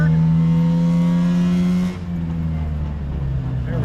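A micro car's small engine revs loudly and steadily in a gear, then drops briefly as the gear changes and climbs again, heard from inside the car.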